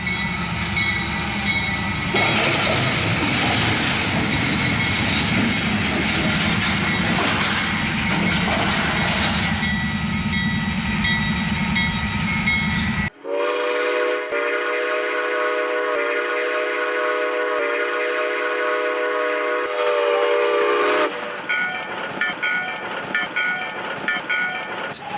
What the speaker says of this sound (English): a Ferromex train collided with a truck